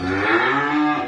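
A young heifer moos in a long, loud, steady bellow at a cattle farm in Ba Tri, its low drawn-out call filling the moment without any talk over it.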